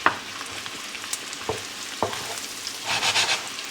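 Mushrooms cook down in a pan with unsalted butter, giving a gentle, steady sizzle broken by a few sharp scrapes and clicks of stirring, with a brief louder crackling burst near the end.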